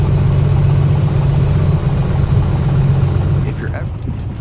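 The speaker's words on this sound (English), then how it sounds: "Now we do have a weak cylinder." Aircraft piston engine with a weak cylinder, running steadily with a deep low rumble and uneven pulsing, loud and close, under speech that fades slightly toward the end.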